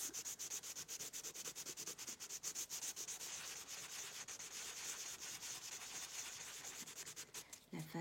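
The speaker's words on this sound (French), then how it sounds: "Donc vous poncez l'ongle" A fingernail being filed and buffed in a manicure, rapid fine scratchy rubbing strokes repeating steadily and close, fairly quiet with no talk.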